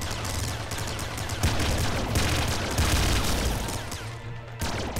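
Turret in the Nuclear Throne Ultra Mod game firing ultra revolver shots, a dense continuous barrage of loud gunfire-like blasts with a few stronger bursts, no talking.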